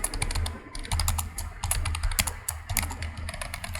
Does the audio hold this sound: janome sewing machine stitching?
no